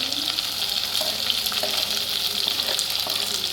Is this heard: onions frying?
yes